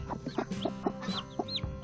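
A hen clucks softly in a coop with her newly hatched chicks, short low clucks coming in a loose repeating rhythm, with brief higher peeps from the chicks in between.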